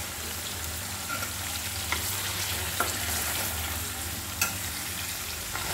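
Chicken pieces fry in hot oil in a home kitchen while cooking biryani, giving a steady, dense sizzle throughout with a few faint clicks of stirring and no talking.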